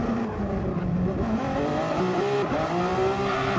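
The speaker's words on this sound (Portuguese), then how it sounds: "Aqui já se sente as reduções para uma travagem com motor" The Audi Vision GT race car in the GT Sport video game downshifts under engine braking. A loud, steady engine drone drops and climbs in pitch as each gear comes down, with no talking.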